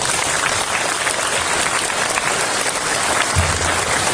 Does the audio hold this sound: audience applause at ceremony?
yes